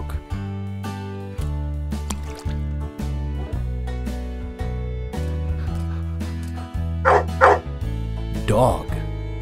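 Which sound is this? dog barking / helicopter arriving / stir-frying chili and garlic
dog barking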